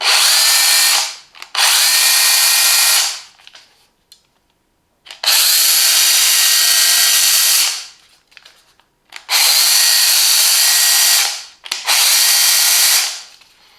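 A Parkside 12V cordless pruning saw (PGHSA 12 C2) cuts through wood in five loud, close, whining motor bursts separated by brief pauses.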